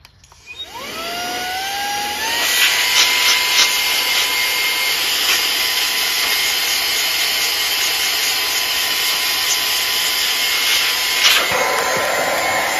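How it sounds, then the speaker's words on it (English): A brush-fitted air blower whirs up quickly and then holds a loud, steady, high-pitched rushing hiss, with light scrubbing and brushing against a Remington Outlaw 20-inch gas chainsaw. "it's a blower with a brush on it"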